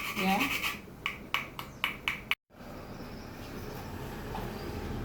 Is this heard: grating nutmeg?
yes